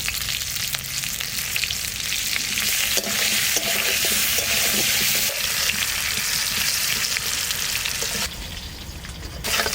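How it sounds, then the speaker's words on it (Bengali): Potato pieces frying in hot oil with a pinch of turmeric, a steady, loud, continuous sizzle with occasional stirring scrapes, no voices. "আলু কটা একটু ভেজে নেব।"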